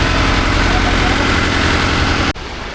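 A traditional deep-sea fishing boat's engine drones steadily and loudly off Mumbai as the boat heads toward shore, a constant low rumble that drops away abruptly near the end.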